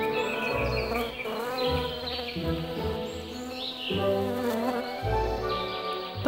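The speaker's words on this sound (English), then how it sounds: "honeybees emerge and begin swarming about the fields" Honeybees swarm over spring fields, a dense, steady buzzing drone that hums close and loud without a break over a few seconds.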